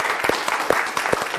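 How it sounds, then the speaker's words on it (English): Audience applause breaks out in a hypnosis training session for a volunteer, with brief irregular claps over a room murmur and a voice faintly underneath. "I think we give Svetlana a big round of applause"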